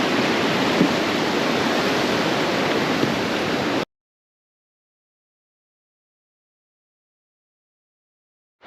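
Clear river water rushing through a Grand Teton forest, a loud, steady broadband roar for about four seconds, then abrupt silence.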